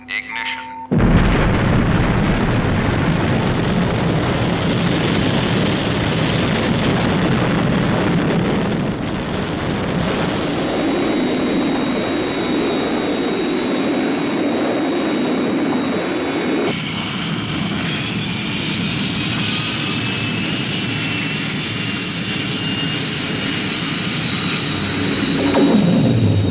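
A theme park ride's rocket ignition bursts in with a boom and settles into a continuous heavy launch roar, loud and close, holding steady with shifting high whines layered over the rumble.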